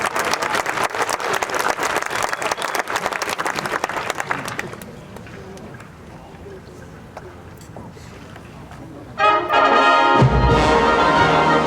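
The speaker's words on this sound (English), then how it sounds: "Appreciate all the applause." A crowd applauds loudly and densely for about four seconds at an outdoor veterans' memorial tribute event. The clapping then fades to a quieter murmur before music begins.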